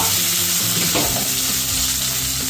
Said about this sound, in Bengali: পেঁয়াজটা দিয়ে দেবো। সাথে কাঁচা লঙ্কা কুচি দেব।